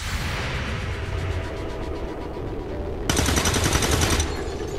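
Rapid bursts of shotgun gunfire in XCOM 2: War of the Chosen crackle continuously, with one loud sustained blast of shots in the latter part, no voices.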